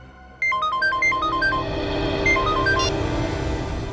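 Electronic telephone ringtone plays a quick melodic pattern of bright beeping tones, repeating twice over a low background hum.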